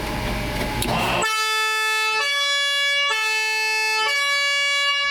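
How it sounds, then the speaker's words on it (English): Loud two-tone siren on a 2001 Mercedes Sprinter former Swiss fire vehicle, starting after a brief rumble and alternating pitch steadily in a repeating hi-lo pattern, very close and dominant, no talking. "There's this very loud siren."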